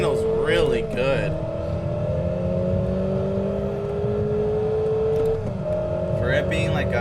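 A stock Mazda Miata engine in a racing video game holds a steady, droning rev with a gradual rising pitch, then shifts down near the end, while someone talks over it at the start and finish.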